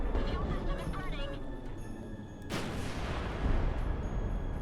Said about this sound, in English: Great explosions when you hit them with the incendiary rounds.